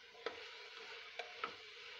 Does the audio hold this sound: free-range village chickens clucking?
no